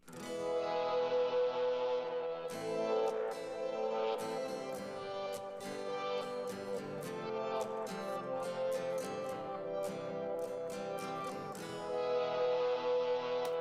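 A reverb-soaked acoustic guitar part plays continuously through a reverb pedal, with plucked notes ringing out and blurring into a long, washy tail; no voices.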